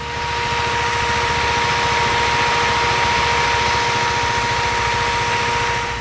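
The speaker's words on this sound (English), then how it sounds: "The motorcycle now sounds much better than before. Here is how it sounds." A 2017 KTM Duke 390 motorcycle sits idling close by, its single-cylinder engine holding a loud, steady, rapid thumping beat with a constant hum for six seconds.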